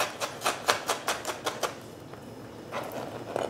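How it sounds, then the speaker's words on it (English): A knife chops fresh ginger on a cutting board while a tabouli salad is being made. About nine quick, crisp, evenly spaced strikes sound close up, then a short pause, then a few faint scraping chops. "I chop ginger like this, first like that, and then I put it in a nice pile"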